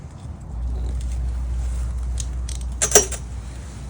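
Small metal nuts being threaded back onto a plastic pressure washer carburetor, a few faint clinks and a brief sharper rattle near the end over a low steady background hum.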